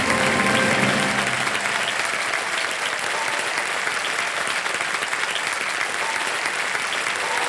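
A studio audience on the Indian quiz show KBC (Kaun Banega Crorepati) applauds a contestant, with dense, sustained clapping at an even volume from start to finish.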